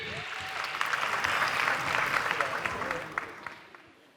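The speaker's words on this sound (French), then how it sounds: "Applaudissements pour lui." A studio audience applauds on a French TV game show finale, a sustained wash of clapping that swells and then fades out toward the end, moderately quiet.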